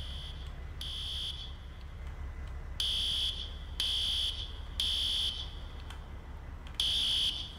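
A building fire alarm sounds in a series of loud, high-pitched electronic buzzer pulses, each about a second long with short gaps, over a low steady hum, no talk.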